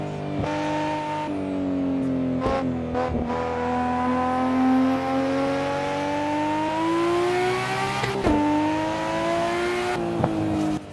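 Simulated Nissan Skyline GT-R R34 engine racing around a track in Assetto Corsa, loud and steady, with its pitch climbing and dropping through several gear changes and brief lifts, heard alone with no talk.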